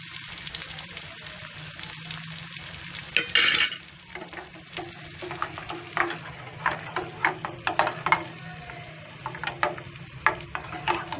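Cumin seeds spluttering in hot oil for a khichdi tempering, a busy sizzle with crackling pops that grow more frequent, a metal spoon stirring and scraping, and a sharp hiss burst early on.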